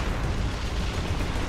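Tank cannon fire and explosion in War Thunder: a dense, roaring, broadband blast that fills the whole short stretch at constant loudness, heavy in the low end, with no voices over it.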